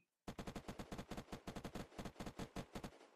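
Rapid automatic gunfire in the game Unturned: a long, loud burst of evenly spaced shots in quick succession, starting abruptly after a brief silence and ending with a short tail.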